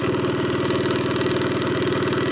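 An engine-driven pump draining a nearly dry pond to catch fish drones close by with a steady, loud, rapidly pulsing throb that holds unchanged throughout, with no voices.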